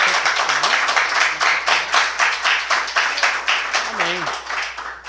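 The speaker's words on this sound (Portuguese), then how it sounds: "Pode dar uma salva de palmas para Jesus?" A church congregation claps together in a steady, rhythmic beat during a worship service, with voices speaking and singing over the clapping.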